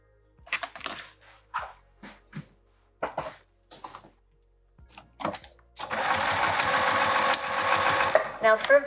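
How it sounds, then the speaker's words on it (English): Sewing machine stitching along the edge of a vinyl handbag at a 3 mm stitch length, a steady loud whirring run in the second half after several short bursts of talking. "Now I'll sew the other edge."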